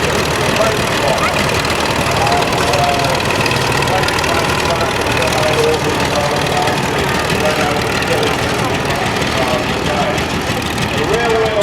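Vintage Renault tractor from around 1920, French-built, with its engine running steadily in a show ring, a loud, continuous low rumble filling the whole stretch, with faint voices beneath it.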